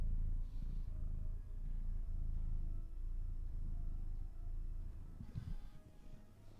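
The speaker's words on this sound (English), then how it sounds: "Listen to that purr." A cat purrs close to the microphone in a low, steady rumble, faint but continuous, with a few soft rustles as it shifts position.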